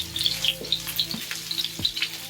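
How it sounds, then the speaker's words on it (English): Steelhead trout fillet frying in a hot pan, a close, steady oil sizzle with sharp crackling pops and faint rhythmic spatters throughout. "You can see how the fish is cooking right there."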